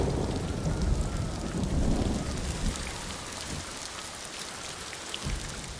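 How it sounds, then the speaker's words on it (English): Heavy rain pours steadily during a thunderstorm in the samurai game Ghost of Tsushima, with deep thunder rumbling through the first half before it settles into a constant hiss of falling rain. "It's a shame these intense lightning storms don't happen as part of the procedural weather."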